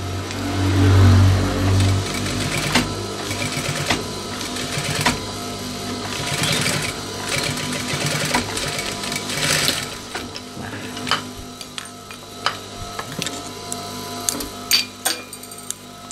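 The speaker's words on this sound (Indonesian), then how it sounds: "Jadi yang kita jahit di sini adalah bagian kain kantongnya." A sewing machine stitches the pocket fabric of baggy trousers, running in a loud steady whir at first and then breaking into shorter stop-start bursts with clicks toward the end.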